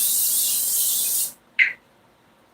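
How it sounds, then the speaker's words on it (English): Cooking oil sprayed from a can onto a pan while eggs cook, a steady hissing burst lasting just over a second, followed by a short soft clink, close and clear with no talk. "I'm going to spray the"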